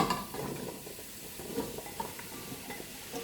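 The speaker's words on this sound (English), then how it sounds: "I'm going to put in my apples, just to reduce them a small bit before I go baking them." Apples for an apple crumble cook in a hot non-stick pan: soft sizzling with intermittent stirring and light scrapes of a utensil against the pan, close and fairly quiet, with no talking.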